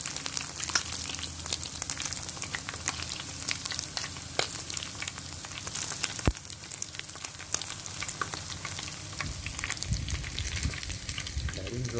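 Frog pieces fry in hot oil with a steady, dense sizzle and crackle throughout, close and fairly loud, with occasional stirring clinks and a low background hum.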